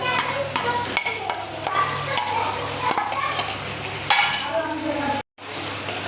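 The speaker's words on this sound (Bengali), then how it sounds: "পেঁয়াজ দিয়ে সুন্দর করে নাড়তে হবে।" Crushed onion and ginger paste fries and sizzles in a pan while being stirred, with a steady close hiss broken by scraping strokes and occasional utensil clinks, then a brief cutout near the end.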